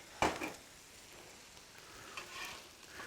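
Sausage and chopped bacon heating on a Blackstone griddle give a faint, steady sizzle, opened by one sharp scrape of a utensil and followed by a few soft scrapes.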